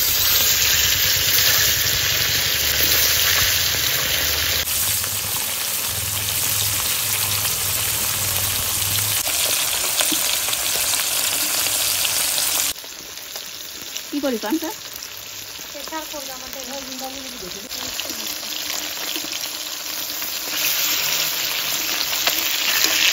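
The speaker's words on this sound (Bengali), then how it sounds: "মাছ দিয়ে রান্না করব, তার জন্য প্রথমে মাছটা ভেজে নেবো।" Fish frying in hot oil in a wok makes a steady, loud, hissing sizzle throughout, easing slightly midway, with a brief spoken question over it.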